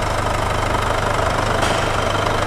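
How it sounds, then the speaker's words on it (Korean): A Mercedes-Benz C-Class W205 C220 BlueTEC diesel idles up close with the engine bay open, a loud, steady, even clatter and rumble with no talking. "엔진 소리 일정합니다."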